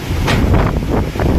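Strong wind roars and gusts steadily against the microphone on a farm, a loud continuous buffeting rush.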